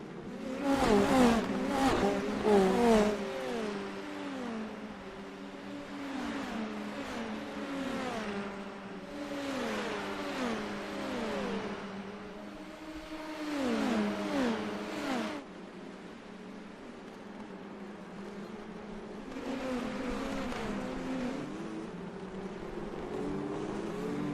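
IndyCar NXT race cars lap a street circuit at Long Beach in the iRacing simulator, high whining engines rising and falling through gear shifts in repeated bursts as several cars pass in a line.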